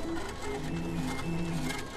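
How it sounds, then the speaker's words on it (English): A Foodini 3D food printer building an edible mashed potato bowl gives off a steady mechanical whir with shifting motor tones that run continuously for the whole stretch, with no talking. "the Foodini printer creates an attractive, edible mashed potato bowl"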